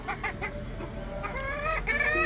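A hen clucks repeatedly up close in a farmyard setting, short rhythmic clucks followed by a longer drawn-out call, fairly faint and without talk.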